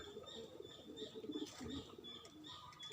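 A zebra dove (perkutut) coos in a soft, repeated rhythm with a mellow, throaty tone, heard close and fairly clear over light background noise, with a few brief higher chirps.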